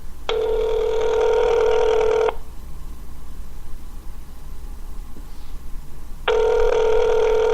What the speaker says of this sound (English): We got ringing